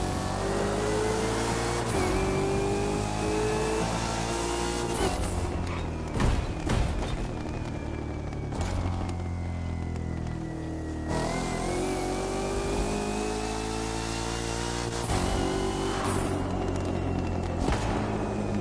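A car accelerating in The Crew Motorfest racing game, its engine revving up through the gears in repeated rising sweeps, loud and steady throughout with no talking.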